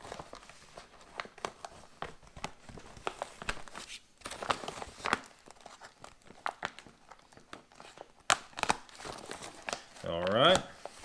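A 2013 military MRE ration bag, Menu 21 chicken breast fillet, being cut open and handled, with repeated crinkling plastic rustles and sharp tearing snips, while a person talks.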